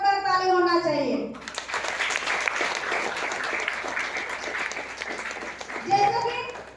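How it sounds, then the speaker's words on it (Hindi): An audience at a community product program breaks into loud, sustained applause lasting several seconds, with a voice speaking just before and just after. "एक बार जोरदार ताली होना चाहिए"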